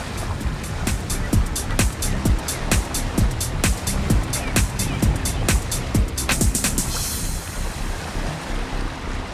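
A sailboat motors under a bridge in Gothenburg, its engine a steady hum beneath a rapid train of sharp repeated clicks or clanks, with rushing water and wind throughout.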